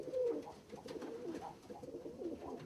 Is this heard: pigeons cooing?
yes